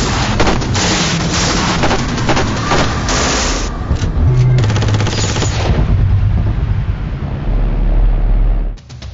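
A Heckler & Koch M27 IAR rifle fires rapid, loud automatic bursts at close range, sharp repeated cracks running in long strings before tapering off, with a low rumble trailing at the end.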